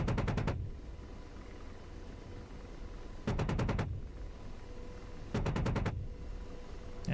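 Three short bursts of 30mm chain gun fire from an AH-64D Apache in DCS World, each a rapid rattle of heavy rounds lasting about half a second, separated by steady rotor and engine drone.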